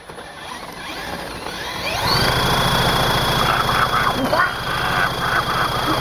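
A power drill spins a tiny free quad bike's small engine with the spark plug removed, a whining drill joined by a steady rapid mechanical chatter of the engine turning over, loud and close.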